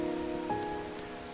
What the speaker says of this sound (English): I love the sound of the rain in the background.